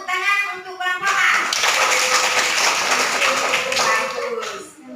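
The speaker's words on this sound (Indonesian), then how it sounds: "Tepuk tangan untuk kelompok A." Classroom audience clapping for group A during a teaching-practice session, a dense burst of close hand claps filling most of the clip and tapering off near the end, with a brief voice at the start.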